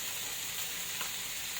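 Leftover cooked rice sizzles in a hot pan for chicken BBQ fried rice, giving a steady, soft frying hiss with no talk.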